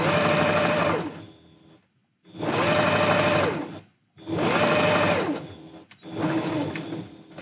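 Sewing machine stitching faux fur for handpaws, running in three long loud bursts with short pauses between, then starting a fourth, steady mechanical whirring without talk.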